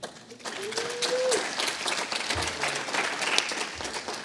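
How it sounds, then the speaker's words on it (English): Conference audience applauding after a Python talk, steady dense clapping from a mid-sized crowd that holds for several seconds, with a few brief noises underneath. "Give a round of applause again to Javier"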